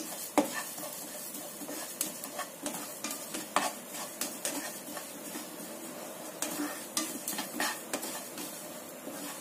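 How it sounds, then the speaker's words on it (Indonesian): Sesame seeds rustle and patter as they dry-roast in a pan, with soft scraping stirs and light clicks of a utensil, quiet and steady with no talking. "Aku akan sangrai 2 sendok makan wijen. Kita sangrai sampai kuning matang."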